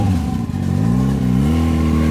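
A motorcycle engine revs hard and climbs steadily toward the rev limiter, a loud, close, rising whine that holds high without cutting out.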